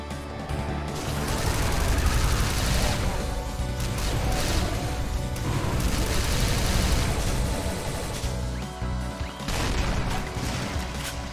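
Enemies firing repeatedly in a modded DOOM map, a chaotic, loud barrage of overlapping gunshots, crashes and blasts that keeps up for over ten seconds.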